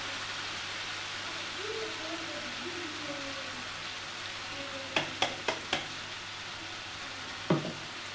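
Spice paste with tomato and fried ground spices sautés in a pan for a tilapia fish curry, a soft steady sizzle with a quick run of spatula taps and one more knock near the end.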